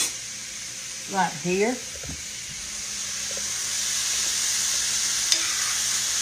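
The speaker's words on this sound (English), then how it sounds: "now I'm going to give it a quick stir" Chicken legs cooking in a pan while being stirred, a steady hiss of frying under a woman's brief spoken words, with a few clatters of the utensil and the sizzle building toward the end.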